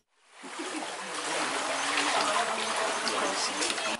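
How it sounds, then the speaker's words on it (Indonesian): Floodwater from the overflowing Salu Batang river in Palopo, South Sulawesi, rushing in a dense, continuous roar that rises within the first half second and holds steady and loud throughout, with no talking. "Hujan yang mengguyur Kota Palopo, Sulawesi Selatan mengakibatkan Sungai Salu Batang meluap."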